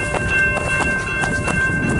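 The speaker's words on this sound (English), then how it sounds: "Here comes. Train." A CN mixed freight train rolls past close by in December, a steady rumble with rhythmic clacking of wheels over rail joints, no voices.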